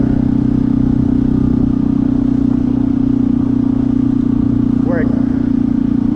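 A Honda CT125 motorcycle fitted with a big bore kit climbs a hill in fourth gear, its engine droning steadily and loudly up close with a constant low hum throughout, while the rider talks over it.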